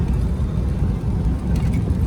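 A 1935 Packard Standard Eight convertible sedan's straight-eight engine idles low and steady, a dense rumble that holds constant and close with no talk over it.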